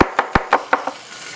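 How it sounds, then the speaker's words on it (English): A knife chops anchovies on a board, six quick sharp knocks in an even rhythm that grow slightly softer, close and clear. "I'm going to just chop the anchovies and put them right in there"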